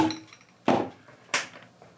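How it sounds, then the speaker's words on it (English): Two dull, solid taps from a rubber mallet land about half a second apart, close and fairly quiet, with a light ringing knock before them. "I will use this rubber head hammer"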